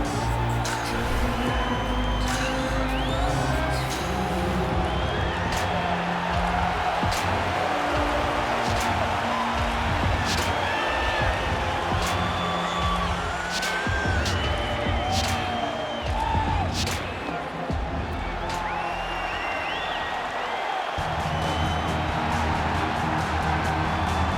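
A sold-out virtual arena crowd in the UFC 4 video game cheers and roars in a steady, dense wash, with whoops and scattered shouts rising from it, before a flyweight championship fight.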